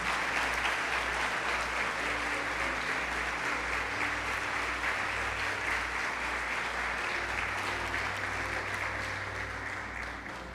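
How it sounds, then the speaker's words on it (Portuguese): A church congregation applauds steadily during a Sunday service, a dense, sustained wash of clapping that holds loud for about ten seconds before easing slightly at the end, with no talk over it. "Então dê um forte aplauso ao Senhor se você crê nisso."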